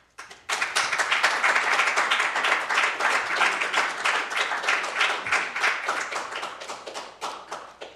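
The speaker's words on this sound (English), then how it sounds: "I have been asked for the audience to hold the applause, please." A crowd applauds at a Chamber of Commerce federal election candidates panel, a sudden, full round of close, dense hand clapping that holds steady for several seconds before slowly thinning out.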